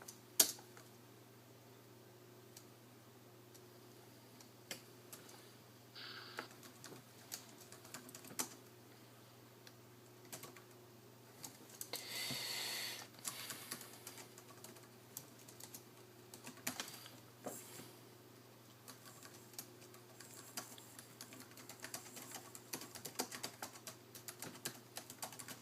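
Keys clatter on a ThinkPad T21 laptop keyboard in quick irregular bursts with short pauses between, close and crisp over a faint steady hum.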